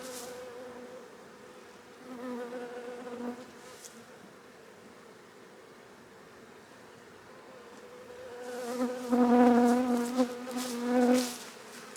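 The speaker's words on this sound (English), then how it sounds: "I'm gonna take these bees and put them on the new bottom" Honeybees buzzing around an open hive as it is split onto a new bottom board, a steady droning swarm that swells louder and closer in the last few seconds.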